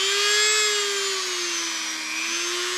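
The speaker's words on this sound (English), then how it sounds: "when you're applying your buffing wheel" A Dremel rotary tool spins a buffing wheel for polishing, a steady high-pitched whir, close and continuous, with its pitch sagging slightly under load.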